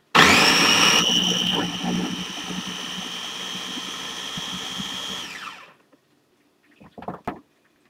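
A kitchen blender whirs loudly for about five seconds as it blends a chocolate peanut butter banana smoothie, its motor whine holding steady before winding down to silence, followed by a couple of brief clunks.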